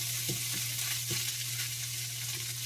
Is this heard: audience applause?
no